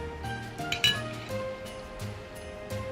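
Light clinking of a utensil against a small container while stirring a homemade water gel lip tint mixture with aloe vera gel, several soft taps and scrapes in an uneven rhythm, close by, over faint background hum.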